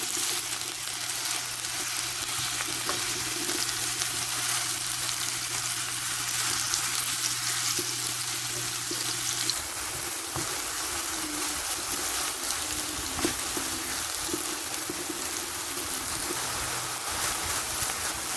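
Minced meat sizzles steadily in a pan with onions pushed to one side, a dense continuous frying hiss with occasional stirring scrapes, close and fairly loud throughout.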